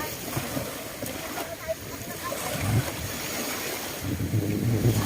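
A boat engine runs at sea off Panglao, Bohol, droning steadily beneath wind and water noise. Voices can be heard in the background.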